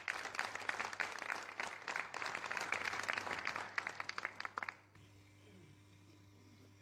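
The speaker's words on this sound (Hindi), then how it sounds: "तो आपस में जरा तालियां बजाएं।" An audience at a Lahore stage event claps in a dense, fairly close burst of applause that thins into a few scattered claps and stops, leaving a low steady hum.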